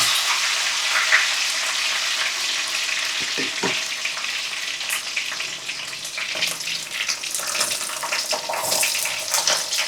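Curry leaves and onions frying in hot oil for a dried-fish curry, a loud, continuous sizzle up close with scraping from stirring.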